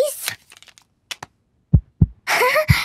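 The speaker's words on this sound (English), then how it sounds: "Dr. Polar Bear can hear Peppa's heart beating." Cartoon heartbeat through a stethoscope at a doctor's check-up, two soft low thumps in the middle, followed by a brief burst of talk-like sound.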